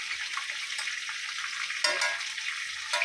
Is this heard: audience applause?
no